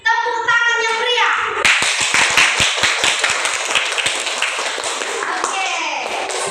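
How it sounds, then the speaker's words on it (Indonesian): Fifth-grade children in a coding class break into lively, rapid group clapping after a voice, a crisp rattle of many hands lasting several seconds before fading into talk. "tepuk tangan yang meriah."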